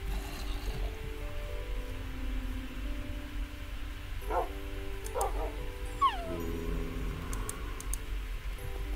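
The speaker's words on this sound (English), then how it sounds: "Are those my dogs?" Tamed wolf dogs in the video game Minecraft whimpering and yipping, a few short high cries in the middle of the clip over steady background game ambience.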